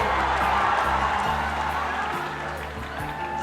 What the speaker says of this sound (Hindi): यहीं से आप लोग जोरदार तालियां जरूर बजाएंगे